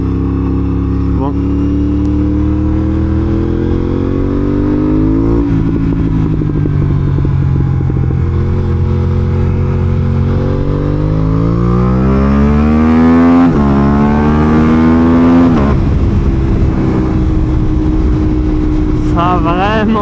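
Motorcycle engine revving and riding on the road, rising and falling in pitch through repeated accelerations and gear changes, loud and close throughout, with someone talking over it.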